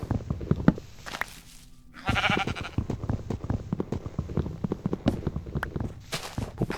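Several sheep in a hardcore Minecraft world bleat in short, repeated calls at moderate loudness, mixed with soft footstep-like thumps and game ambience.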